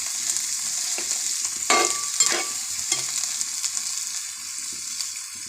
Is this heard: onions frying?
yes